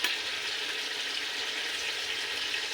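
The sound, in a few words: frozen curd added to hot pan for chicken pulao, sizzling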